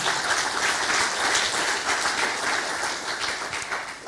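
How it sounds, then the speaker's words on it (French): An audience at a seminar on geolocation claps together in steady, dense applause that holds even and fairly loud throughout, fading slightly at the end. "je pense qu'on peut également les remercier en les applaudissant"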